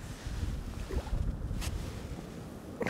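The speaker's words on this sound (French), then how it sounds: "le vent, c'est levé, c'est une horreur, le vent." Wind gusts over a riverside fishing spot during a feeder session for roach, a rough, steady rumble of wind buffeting the microphone with no talking.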